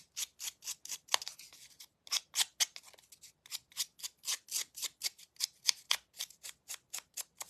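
Rapid, rhythmic snips and scrapes of scissors against paper, crisp and close, repeating about three to four times per second with brief pauses.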